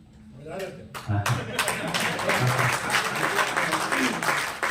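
Audience applause at a Hindi kavi sammelan and mushaira poetry recital, dense clapping swelling up and continuing steadily throughout, with a voice speaking faintly beneath it.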